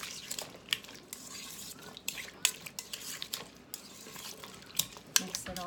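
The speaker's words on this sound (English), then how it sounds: "Mix it all together, and we are good." Spicy island-style pickled cucumbers being mixed in a bowl, with wet clicks, taps and scrapes of utensil against the dish in an uneven rhythm, close and fairly quiet.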